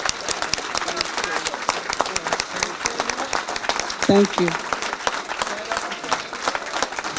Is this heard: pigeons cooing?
no